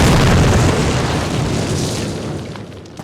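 A loud explosion in the video game Call of Duty bursts with a heavy boom, then a rumbling roar that slowly fades over about three seconds, with no voices.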